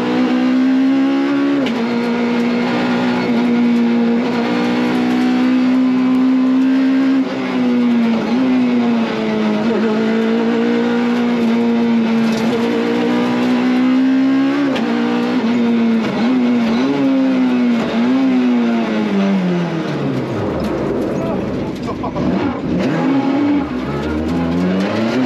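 Citroën C2 VTS engine revving hard as the car drives, a loud continuous drone rising and falling in pitch with gear changes over about 25 seconds, with a brief lull near the end.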